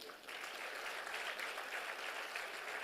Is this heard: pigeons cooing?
no